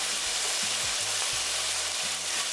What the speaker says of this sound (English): So we're going to add in our onion, garlic and thyme